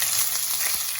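Ginger and garlic with fennel, cardamom and curry leaves frying in oil for a Jaffna-style chicken curry, giving a dense, steady hiss of sizzling heard close and alone for about a second.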